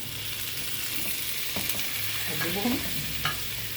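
Potato and carrot pieces fry in butter with garlic in a pan, giving a steady close sizzle with a few clacks from stirring. A voice speaks briefly over it.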